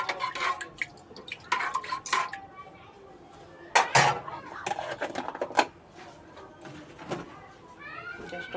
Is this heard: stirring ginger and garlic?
yes